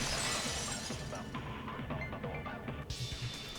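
Window glass shatters in a video game with a bright, crashing burst. Tinkling debris follows, then the sound fades into a softer, scattered trail with no one talking.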